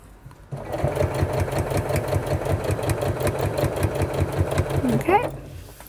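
A sewing machine stitches along a strip of fabric wrapped around piping cord, a steady close mechanical whir with rapid rhythmic needle thumps that slows near the end, with no talking.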